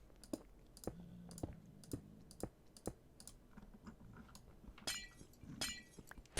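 Glowstone blocks breaking in Minecraft give a glassy shatter, with a few sharp bursts near the end after a run of faint clicks and knocks, all fairly quiet.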